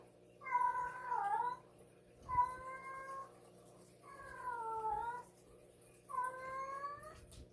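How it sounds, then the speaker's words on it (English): A cat in heat yowls four times in long, drawn-out wailing cries with pauses between, nearby and fairly loud over a quiet background hum. "My cat is in heat."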